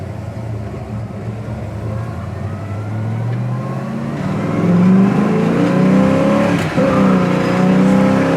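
A 1966 Chevelle SS engine with a 4-speed revs and accelerates up close, its rising pitch climbing steadily and growing louder, with a brief shift midway before pulling harder.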